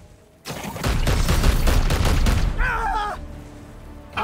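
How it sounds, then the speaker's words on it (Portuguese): Gunfire in Warhammer 40,000: Chaos Gate - Daemonhunters: a loud, dense burst of rapid shots lasting about two seconds, followed by a warbling tonal effect as the shooting fades. "Mas deixa eu atirar primeiro."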